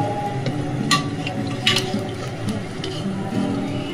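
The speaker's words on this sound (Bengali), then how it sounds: "এবার মাংসটার সাথে মশলাটা আমি একটু কষিয়ে নেব।" Mutton being stir-fried with spices in a pan for Bengali mutton kosha, a steady close sizzle with soft scraping stirs and a few sharper clinks, continuous throughout.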